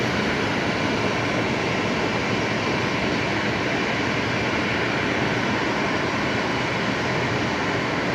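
A jet airliner on final approach at Brisbane Airport at night, a steady broad roar that holds constant and loud for the whole stretch, with no voices.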